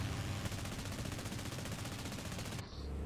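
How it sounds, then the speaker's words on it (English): Sustained machine-gun burst from an SU-2 MV-5 aircraft in War Thunder, a steady rapid rattle heard fairly faintly and at some distance over engine drone, cutting off near the end. "I'll do my classic tactic of firing a burst in their general direction to tell them to fuck off"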